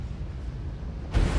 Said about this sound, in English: causing an even more violent explosion from the flammable hydrocarbons inside and blowing its lid off as well